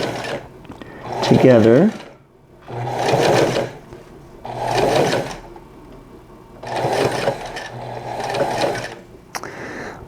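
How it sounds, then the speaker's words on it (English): A sewing machine runs a slow topstitch on T-shirt fabric in five or six separate bursts with short pauses between, close and fairly loud, with a voice briefly speaking over the first burst. "ever so slowly, I'm gonna run a top stitch just to hold that edge"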